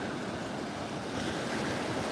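Ocean waves wash continuously against a beach lined with tide pools, a steady broadband surf roar with light wind buffeting the microphone, no voices.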